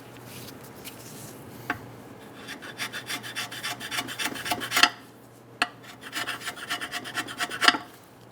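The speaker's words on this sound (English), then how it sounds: "Try to scrape everything off of the side." Old gasket material being scraped off the valve cover surface of a 2003-2008 Honda Pilot engine: close, raspy rubbing strokes in quick bursts, with a few sharp clicks of the scraper between passes.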